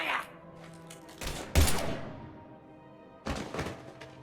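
Weapons fire in Mass Effect 3 Legendary Edition comes as a few loud, heavy bursts close to the listener, each a blast that decays into a fading ring, with quieter gaps between them.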